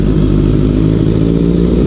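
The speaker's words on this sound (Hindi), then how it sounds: "और स्टार्ट करके इसको छोड़ना पड़ता है बिकॉज इंजन ठंडा होता है. अभी इसका RPM रेज होगा." A superbike engine idles and revs while warming up from a cold start, a loud, steady mechanical drone with a low throbbing rumble and light clatter, close by throughout with no talk.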